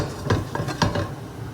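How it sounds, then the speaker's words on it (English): Butter sizzling in a hot pan while being spread around, a soft frying hiss with several light scraping and tapping touches of a utensil against the pan, close and fairly quiet. "get a hot pan and then throw some butter into the pan and then get it all around"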